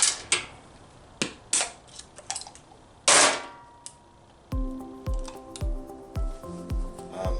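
A bottle of peroxide being opened up close, with sharp plastic cracks and snaps, then a run of rhythmic clicks and taps as the cap is worked loose.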